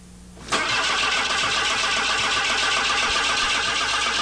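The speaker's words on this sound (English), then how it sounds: "Take one engine, trying to start." A Saab car's engine cranks and catches after a short quiet moment, then holds a loud, steady, close rumble for the rest of the moment.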